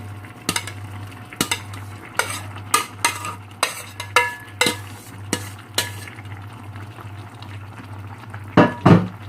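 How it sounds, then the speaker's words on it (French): Carrots going into a simmering kefta sauce, heard as a run of distinct clinks and stirring knocks against the pot over a steady low bubbling hum, ending in a louder clatter. "je vais ajouter mes carottes"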